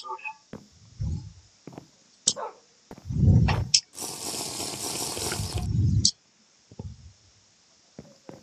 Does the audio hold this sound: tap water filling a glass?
yes